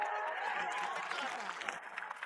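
Studio audience clapping during an Indonesian comedy show, a dense steady wash of applause filling the whole stretch, with faint voices mixed underneath.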